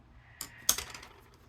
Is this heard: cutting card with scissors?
yes